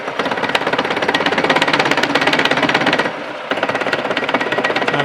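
A taper shank drill bit bores through a bronze connecting rod for a steam stoker engine, producing a loud, rapid, rattling chatter that runs steadily, breaks off briefly, then resumes.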